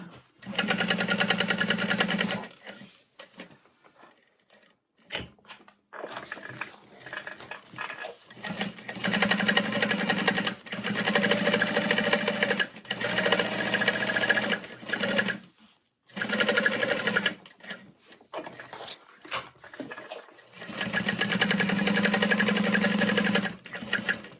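A sewing machine basting along the sides of a tote bag at a long stitch length, running in several loud steady bursts with short pauses between them.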